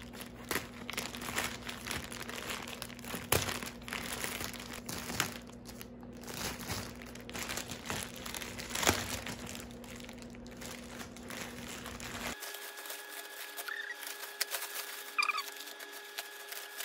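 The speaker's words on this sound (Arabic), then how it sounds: "فيلا نفتح اول شيء شئن، متحمسة مرة افتحها." Plastic mailer from a Shein clothing order being opened, with close, soft crinkling and rustling bursts continuing throughout, some sharper crackles, and the background hum dropping away partway through.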